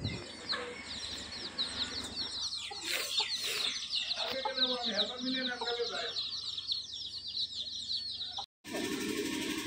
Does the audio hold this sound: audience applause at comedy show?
no